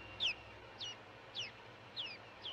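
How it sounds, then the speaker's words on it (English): A canary chirps five times, each call a brief, high, downward-sliding whistle, spaced evenly about half a second apart over a faint background hum. "It sounds like a canary"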